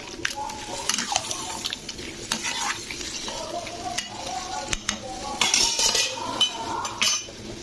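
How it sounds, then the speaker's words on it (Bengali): Boiled pumpkin and potato being stirred into sizzling masala in a pan, with repeated scraping and clinking of a spatula against metal over a constant frying hiss, close and fairly loud. "মশলাটার মধ্যে ভালো করে ওপর নিচ করে কষে নিচ্ছি"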